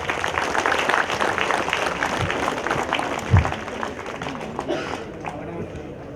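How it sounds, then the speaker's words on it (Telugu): An audience claps at a volunteers' and organisers' speech session of a meditation gathering. The dense applause is loudest at the start and gradually thins and fades, with a voice briefly audible. "ఒకసారి గట్టిగా చప్పట్లు కొట్టుకుందాం."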